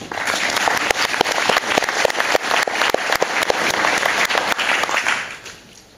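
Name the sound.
audience applause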